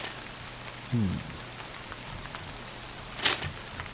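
Video game rain: steady hiss fills the scene, with a low thump near the start and a brief sharp burst of noise later on.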